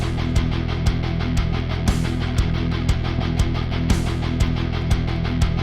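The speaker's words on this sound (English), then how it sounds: "What if we put our snare drum on every one of these third kick drums? Now it would feel like a halftime groove." Programmed MIDI drums play a metal halftime groove in 12/8, with sharp snare hits landing on every third kick over a dense, distorted guitar riff, steady and loud.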